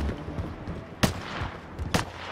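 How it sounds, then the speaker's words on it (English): Two sharp gunshots ring out about a second apart in a Call of Duty Modern Warfare match, crisp and fairly close over a low ambient bed, with no talk over them. "Who's shooting? That's you?"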